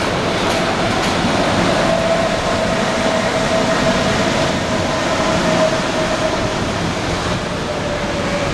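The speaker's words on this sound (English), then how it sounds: "here it is, ladies and gentlemen, the new Bukit Panjang LRT train" A new Alstom Innovia APM 300R Bukit Panjang LRT train in Singapore rumbles steadily past at close range, with a sustained hum and faint high whine of wheels and motors throughout.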